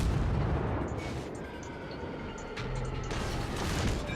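Naval cannon fire from cruisers in World of Warships, distant booms and rumbling blasts that rise and fall under a dense, noisy battle background, with no voices.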